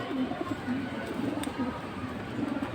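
Several pigeons at a pigeon market coo in low, rolling repeated phrases, close by and continuous, over a steady background hum.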